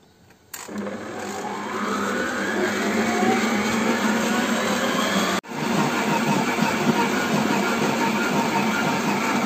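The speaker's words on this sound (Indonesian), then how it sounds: "Lalu kita mixer dengan kecepatan rendah dulu ya." Electric stand mixer running at low speed while kneading potato bread dough, a steady continuous motor whir with a dense rumble throughout, briefly cutting out for an instant partway through, with no talking.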